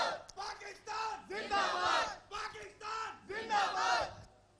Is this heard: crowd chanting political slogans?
yes